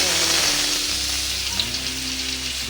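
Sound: rita fish frying in oil in a wok

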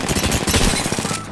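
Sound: gunshots in the video game Apex Legends

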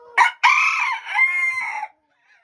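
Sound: Bearded Belgian d'Uccle rooster crowing

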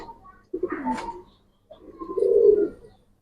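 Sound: pigeons cooing

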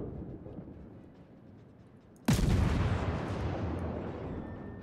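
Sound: warship naval guns firing in the video game World of Warships

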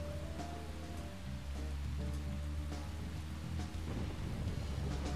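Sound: rain in the video game Deadly Premonition

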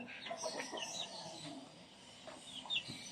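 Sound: chicken clucking

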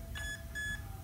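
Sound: speed controller beeping twice

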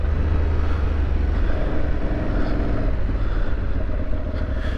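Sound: Aprilia Tuareg 660 motorcycle riding off-road

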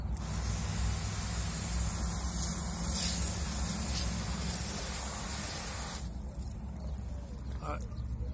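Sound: spraying off a section with water

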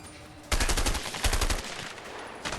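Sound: gunshots in video game A Way Out

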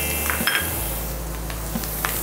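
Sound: bean sprouts added to a frying pan

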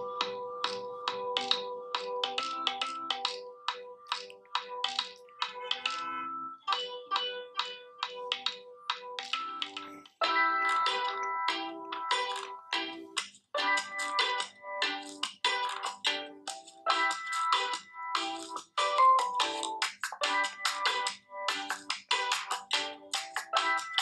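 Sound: phone ringtone played on smartphone speaker

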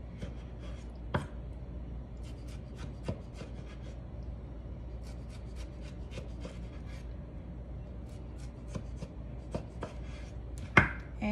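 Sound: knife cutting tomato into slices for salsa

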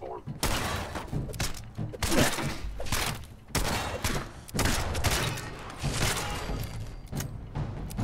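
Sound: gunfire from a gun in the video game Fallout 4 VR

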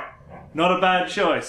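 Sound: dogs barking

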